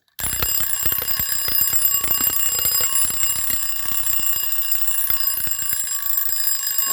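A wind-up Scotsguard fire alarm bell made in Waterbury, Connecticut rings loudly and continuously at close range, a rapid metallic clatter that starts abruptly and continues for about seven seconds.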